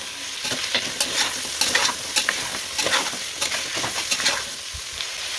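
Beef bone curry being stirred in a frying pan, with a steady sizzle and repeated scraping strokes of the spoon, close and fairly loud, and no voices.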